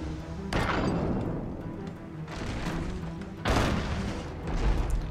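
Shipboard cannons in the pirate game Abandon Ship firing in a broadside: several loud, booming blasts about a second apart, each with a rumbling tail, dense and close.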